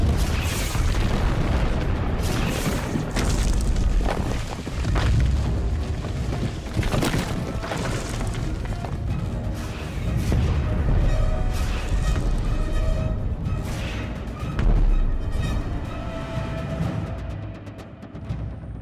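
Helicopter missile salvo explosions in a Hulk film battle scene: a dense, sustained barrage of deep booms and blasts rolling one into another for the whole stretch, loud and heavy with low rumble.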